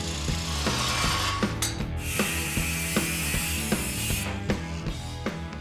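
A metal pipe end is cut off during a hot rod build on a Ranger chassis. The cutting makes a loud, steady grinding and rasping noise with regular clicking pulses throughout, and no one speaks.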